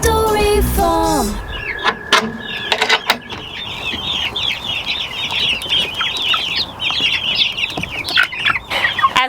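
A flock of 46 growing farm chicks cheeps and clucks continuously at close range, with a few sharp knocks and mechanical clatters early on.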